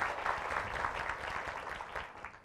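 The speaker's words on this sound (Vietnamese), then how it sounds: "Dành một tràng vỗ tay được không ạ?" Short burst of audience applause at a talk, a fairly soft, even patter of many hands that fades slightly toward the end.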